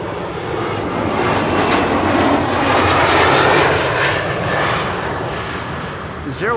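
Boeing 747 jet engines whine and roar steadily while the airliner taxis at Schiphol Airport, a loud, close, continuous hiss and drone that swells slightly mid-clip and holds throughout.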